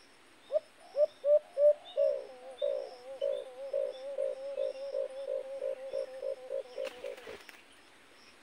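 An alimokon dove used as a hunting decoy calls in a steady series of about twenty rhythmic coos, close and clear, louder at the start and tapering, with a brief rustle near the end.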